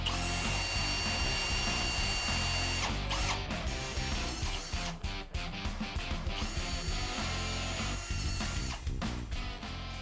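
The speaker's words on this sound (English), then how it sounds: "set the clutch of your drill on a low setting when screwing in these stainless steel fasteners" A power drill drives stainless steel screws into a Trex ADA grab rail bracket, whirring in steady bursts with ratcheting clutch clicks, close and loud throughout.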